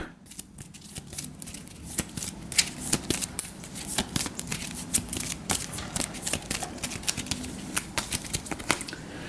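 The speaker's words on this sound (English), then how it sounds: "We'll go ahead and shuffle this up." A deck of game cards for a horror-themed card game being shuffled close to the microphone, a steady run of quick papery riffles and snaps lasting several seconds.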